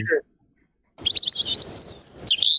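Birds chirp close by in a quick run of bright, high tweets after a short silence, with a brief burst of sound before the silence.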